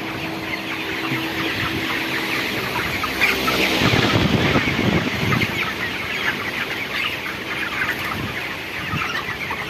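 A flock of broiler chickens clucks and murmurs continuously, many birds close by, with a steady barnyard din throughout.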